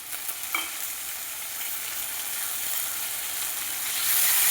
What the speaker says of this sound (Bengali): মাছের তেলটা হালকাভাবে নাড়াচাড়া করে নিলাম।